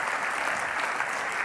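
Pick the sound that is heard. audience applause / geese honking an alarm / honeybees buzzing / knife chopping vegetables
audience applause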